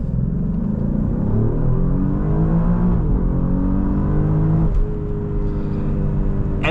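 Alfa Romeo Giulia QV sport sedan in race mode accelerating hard, a loud close engine roar rising in pitch through the gears with a brief shift near the middle and a crackle at the end, no voices.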